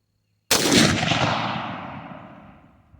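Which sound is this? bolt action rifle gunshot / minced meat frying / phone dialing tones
bolt action rifle gunshot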